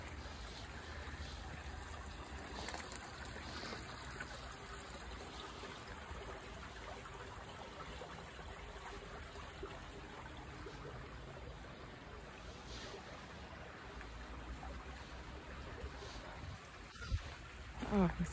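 A woodland creek trickles and burbles softly over stones, a faint, steady wash of water heard close by, with a brief rustle and thump near the end.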